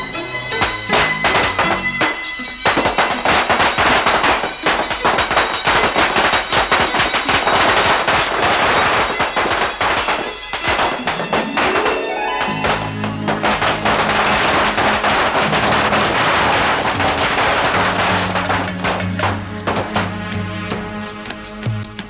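Diwali firecrackers burst in rapid, dense chains of sharp cracks and pops, loud and close, with brief lulls between volleys, over faint background music and no talk.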